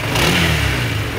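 A Honda 160cc scooter with a racing injector revs hard, its engine holding a high, strained drone that swells briefly, close by and steady with no talk.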